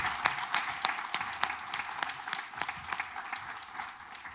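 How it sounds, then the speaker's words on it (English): An audience claps for a panel in a hall, a steady patter of applause at moderate distance that holds evenly and tapers slightly near the end. "So we'll give them an applause."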